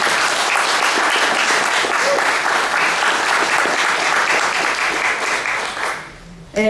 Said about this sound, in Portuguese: bater uma salva de palmas para todas as mulheres que estão aqui